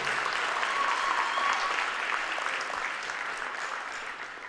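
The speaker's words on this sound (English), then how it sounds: "Let's give a big round of applause for Omar Millwood and Kenneth King." Crowd applause fills a high school gym at a wrestling dual meet, a steady wash of clapping from many spectators that slowly tapers off toward the end.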